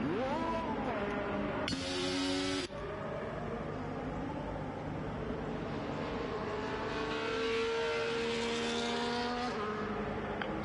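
Race cars in a racing video game, a Haas among them, head out onto the Australia track with rising and falling engine whines and revs. One car passes with a brief loud whoosh amid the layered, steady engine tones.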